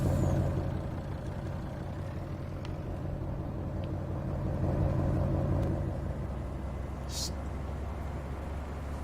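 A truck in Farming Simulator 19 drives along with a steady low engine rumble throughout, a brief hiss near the end and faint talk underneath.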